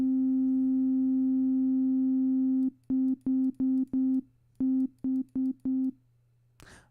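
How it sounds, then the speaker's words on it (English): A steady sine wave tone at C4 holds alone for nearly three seconds, then pulses in eight short, evenly spaced bursts before a brief faint click at the end. "I thought this was supposed to be a single sine wave."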